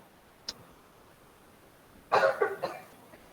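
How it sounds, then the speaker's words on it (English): After a faint tap, someone clears their throat close by in a couple of rough bursts, then quiet. "I just wanted to clear my throat"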